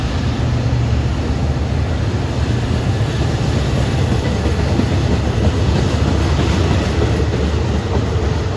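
An LIRR diesel train passes close on a triple-track mainline near Carle Place and Mineola on a damp, dreary day, a loud continuous rumble with wheel clatter and roar that stays steady throughout.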